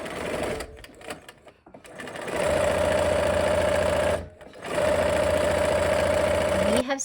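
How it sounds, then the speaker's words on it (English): A domestic sewing machine runs steadily, stitching a quarter-inch seam along both sides of a marked line on quilt fabric. Two sustained stretches of close, loud whirring are split by a brief pause, with a short start near the beginning. "Now we will sew a 1/4 inch on both sides of that line."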